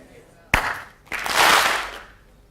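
A single sharp hand clap in a hall, followed a moment later by a broader burst of group clapping that swells and fades over about a second.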